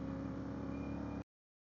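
A CFMoto 450MT motorcycle engine climbing a steep rural road, a steady, close mid-pitched hum that cuts off abruptly after about a second.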